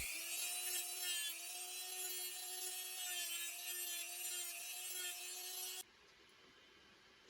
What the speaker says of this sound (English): So back to the shop and let's grind it some more.